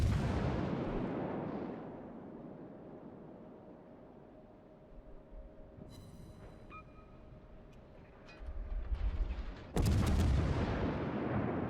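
Naval guns firing in World of Warships, a Tier 8 French cruiser Charles Martel in battle, with booming salvos and rumbling impacts rising near the middle and at the end over steady engine and ambient noise.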